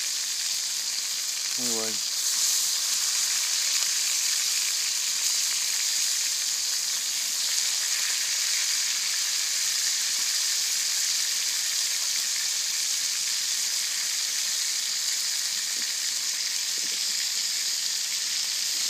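Venison sausage cooking over a banked campfire, giving a loud, steady sizzle and hiss that carries unbroken for the whole stretch, with one brief spoken word near the start.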